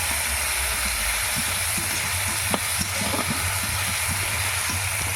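Chopped tomato sizzles with spices in a hot pan, a continuous loud frying hiss with scattered pops and a couple of sharp clinks near the middle.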